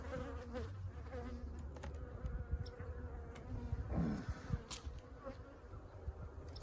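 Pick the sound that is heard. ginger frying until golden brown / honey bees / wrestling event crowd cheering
honey bees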